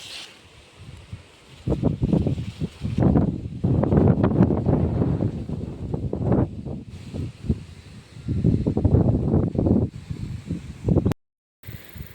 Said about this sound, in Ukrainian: вітер. Телефона видирає